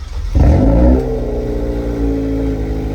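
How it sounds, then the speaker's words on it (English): A Hyundai i30N's 2-litre inline-four engine cranks and fires, flaring loudly for a moment before dropping into a steady, throaty idle that hums on close and loud without any talking. "Let's start the i30N and hear how it sounds."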